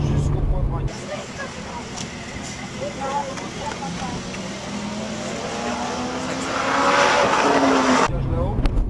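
A race car accelerates hard on a track, its engine droning close and loud with the pitch climbing and surging toward the end, while a person speaks over the noise.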